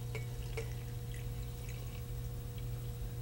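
About 150 millilitres of water is poured into a blender during an organic chemistry lab demo isolating limonene, making a steady, soft trickling pour over a constant low electrical hum.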